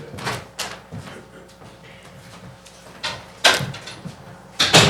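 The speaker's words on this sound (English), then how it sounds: "We might want to close that door too." A door swinging shut in an indoor room where people are gathering for an interview, with several thuds and knocks spread through the stretch and low voices murmuring in between.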